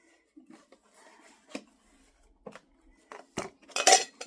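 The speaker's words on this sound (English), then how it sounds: "I have my little cook stove in here." A small camping cook stove and cup handled during a backpacking gear layout, giving a few scattered metallic clinks and knocks, louder near the end, with quiet gaps between.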